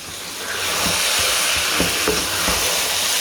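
Desi ghee melting in a pan gives off a continuous hiss and gentle sizzle, with a few soft clicks and taps of utensils against the pan along the way.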